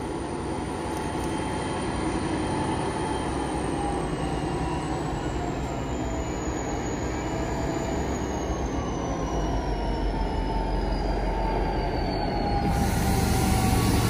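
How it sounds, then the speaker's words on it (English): A full mineral freight train rolls past at Menangle Park, a loud continuous rumble of wagons with steady wheel and rail noise and a faint high squeal, growing heavier toward the end. "We're the full mineral train."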